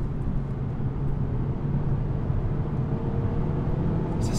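A 260-horsepower Mazda 3 MPS drives along, its engine giving a steady, moderately loud low drone mixed with road rumble and no talk.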